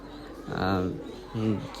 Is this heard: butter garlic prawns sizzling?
no